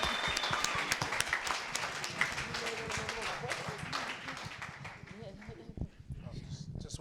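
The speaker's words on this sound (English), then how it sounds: "give her one more big round of applause" A crowd applauds Lady B at a Philly hip hop Q&A, dense clapping that thins and fades over several seconds, with voices talking over it.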